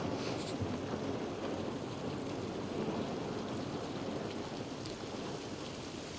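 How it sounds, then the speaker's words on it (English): Steady rain hissing and pattering continuously in the video game The Last of Us Part 1, dense and even with no pauses, heard alone without voices. "It's raining"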